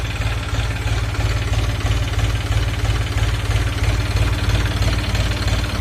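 A Foton 250 tractor engine idles close by, its low diesel chug knocking in a steady, rapid rhythm without any talking.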